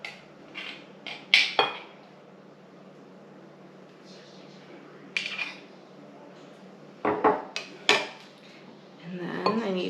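Kitchen clatter while opening a new jar and scraping its contents into a container, with sharp clinks of glass, utensils and dishes in short bursts over a quiet room hum, and a faint voice toward the end.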